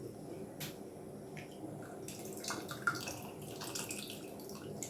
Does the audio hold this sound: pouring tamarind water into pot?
yes